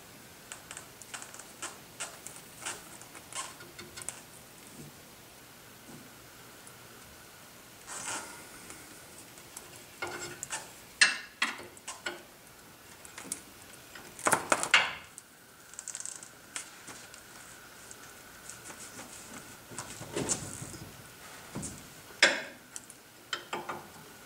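A wrench loosening the brake line on a C3 Corvette Stingray caliper during a brake rebuild, giving scattered metallic clicks, ratcheting ticks and small clanks at close range, irregular over a long stretch with no talking.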